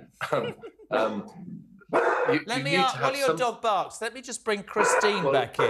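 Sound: dog barking in the background

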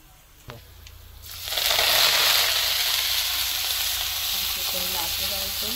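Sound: chickpea greens sizzling in hot oil with garlic and fenugreek

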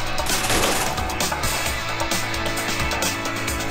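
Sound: gunfire in the video game Strike Force Heroes 3

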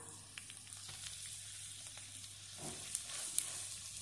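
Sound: ground chana dal being mixed in a pan

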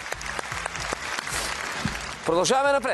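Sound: studio audience applause

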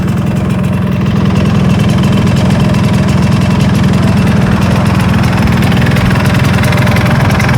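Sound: Yamaha RX-Z two-stroke motorcycle engine, stock exhaust, revving

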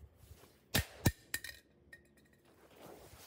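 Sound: hammer smashing a toy car

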